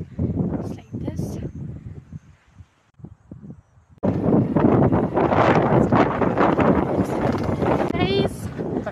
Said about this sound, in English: It's quite windy.